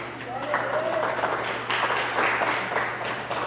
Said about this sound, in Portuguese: Palmas para o Senhor Jesus Cristo